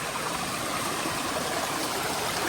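Antharaganga Waterfalls near Ramoji Film City, Hyderabad, heard as a loud, continuous rush of falling water close by, a dense broadband roar with no voices.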